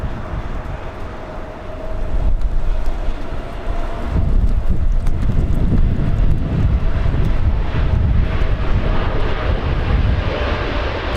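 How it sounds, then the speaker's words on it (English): A Boeing 787 Dreamliner roars through its takeoff roll at Los Angeles International Airport. The engine noise is a loud, steady, broadband rush with some wind buffeting, and there is no talk. "the Dreamliner picking up speed pretty quickly"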